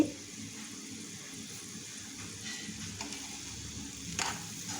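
Bottle gourd curry being stirred in a pan, a soft continuous sizzle with faint scraping and a couple of brief clinks near the end, close and steady.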